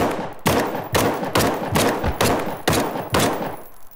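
A rifle in the video game The Front fires about eight loud, close shots at an even, quick rhythm, each crack ringing briefly before the next.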